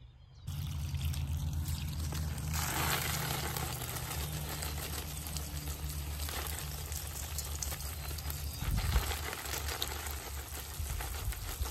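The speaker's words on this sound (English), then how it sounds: "give them some water" Water pours steadily onto plants in a garden, a continuous close splashing trickle that runs almost unbroken, swelling briefly near the end, with no talking.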